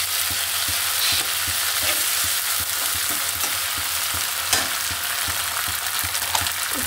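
Brain mixed with ginger paste fries and is stirred in a pan, giving a steady close sizzle and spatter with repeated scraping strokes of the spoon running through it.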